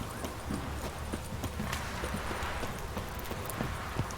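Horse hooves clip-clopping in a video game, a steady rhythmic series of hoof strikes at moderate volume over a low background, with faint talk in the mix.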